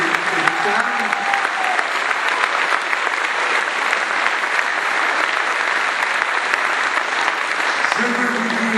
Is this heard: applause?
yes